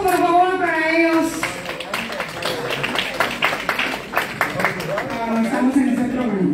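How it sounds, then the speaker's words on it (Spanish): Audience applause at a film premiere for a Mexican film, scattered claps under someone speaking over it and steady across the stretch. "Un aplauso, por favor, para ellos."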